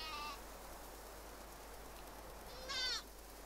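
Two sheep bleats from the video game Windborne: a brief one at the start and a louder, longer one near the end, separated by quiet, steady ambient hiss.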